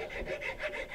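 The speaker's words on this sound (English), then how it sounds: "let's sort of take as many of those gouges out as we can from the rasp" A wood rasp files a wooden sporter gunstock for a 1903 Springfield rifle in close, rhythmic strokes. Three or four scratchy rubbing passes sound up close and fairly quiet, with no talking.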